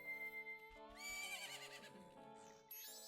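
Epona the horse neighing in the video game Majora's Mask at Romani Ranch, a clear whinny rising and wavering over a few seconds amid synthesized game music and sound effects.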